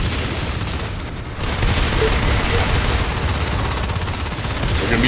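Rapid gunfire from a first-person shooter match, fired at gorges near a drone bay in a shotgun rush, a dense continuous burst of shots that stays loud through the clip with a brief dip near the start.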